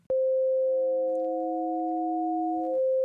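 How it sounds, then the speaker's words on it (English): A ring modulator effect from the Glitch plugin, driven by a sine-wave modulator, produces a steady, loud electronic tone that holds for about three seconds and then cuts off abruptly, with no voices. "a sine wave of a frequency determined by the frequency knob on the effects panel acts as the modulator signal"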